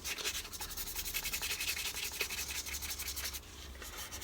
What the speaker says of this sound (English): I'm just lightly rubbing, letting the sandpaper do the work